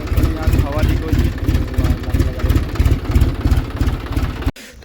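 A John Deere tractor engine idles close by with its silencer packing removed, giving a steady rapid low thumping pulse with a slightly leaky, raw exhaust tone that cuts off abruptly near the end.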